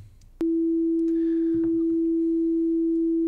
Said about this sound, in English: haven't heard what a sine wave sounds like